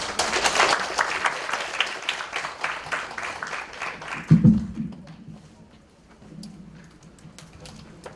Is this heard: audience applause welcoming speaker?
yes